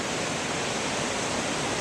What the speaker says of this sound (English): And that's the Urubamba River.